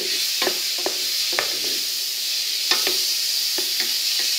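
Mushrooms and bacon lardons fry in a pan, a constant bright sizzle broken by several sharp spatula scrapes and taps as they are stirred.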